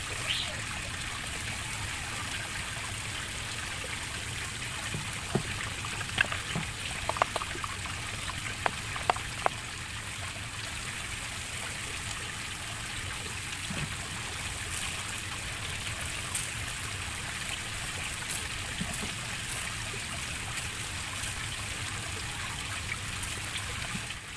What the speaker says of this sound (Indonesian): Kita akan siram kembali semayan ini